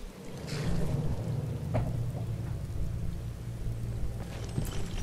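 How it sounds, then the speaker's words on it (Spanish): Steady heavy rain pours in the Skyrim video game, with low rumbling thunder rolling underneath and a few brief louder cracks, a continuous wet hiss with no voices. "Sigue lloviendo un montón."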